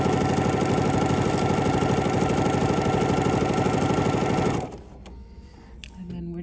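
Sewing machine stitching slippery threads in place on a fabric door stop, a loud, fast, even mechanical chatter running steadily before cutting off abruptly, followed by faint handling noise.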